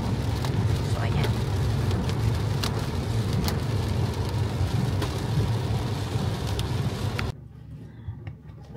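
Steady rain falls outside in the Netherlands, a dense continuous hiss with scattered drop ticks that cuts off abruptly near the end, leaving a quieter room tone.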